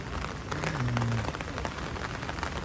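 Steady rain hiss in a video game, a continuous even wash of falling drops with a brief low tone in the middle, no voices.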